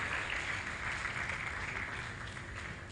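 An audience at a school debate challenge applauds student speakers, a dense, steady wash of clapping that stays loud and even from start to finish, with no break and no voice on top.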